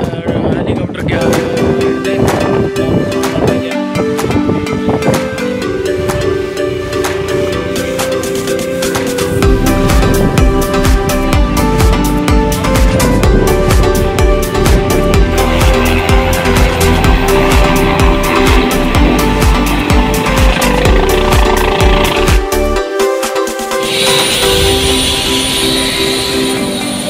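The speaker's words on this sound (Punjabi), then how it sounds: "ਹੈਲੀਕਾਪਟਰ ਡਰਾਈਵ ਕਰ ਰਹੇ ਹਾਂ" A helicopter in flight, heard from a ride aboard, gives a loud, unbroken engine and rotor drone that fills the whole stretch.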